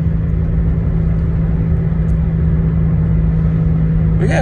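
Steady low engine rumble and road drone from inside a moving car, continuous and fairly loud throughout with a brief rustle near the end.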